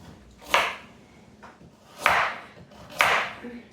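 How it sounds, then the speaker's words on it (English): Vegetables being chopped by hand in a home kitchen: three separate knife strikes on a cutting board, close and fairly quiet, spaced unevenly apart with light room noise between them. "I'm gonna finish chopping up these veggies"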